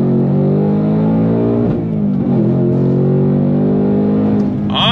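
A 2024 Ford Mustang Dark Horse accelerating hard on throttle, the engine roaring loud and close with a steady rising drone and a brief dip before it pulls again, alone without talk.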